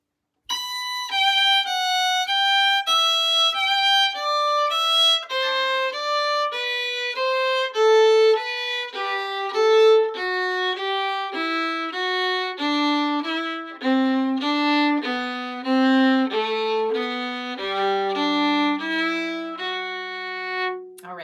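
A fiddle or similar stringed instrument plays the Irish reel Tripping Down the Stairs at a moderate pace, a continuous run of bright, clear notes, solo and close, with no talking.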